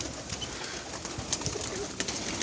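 Soft cooing from a flock of about 86 pigeons being fed mixes with faint fluttering and scratchy movement nearby, low and continuous, with no talking.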